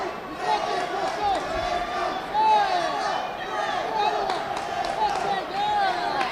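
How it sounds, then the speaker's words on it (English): A crowd at a live fight event between Crystal Demers and Rachel Reinheimer, a dense roar of many voices with rising chanting calls, steady and loud throughout, with a commentator talking over it. "Crowd chanting loud for the fighters here."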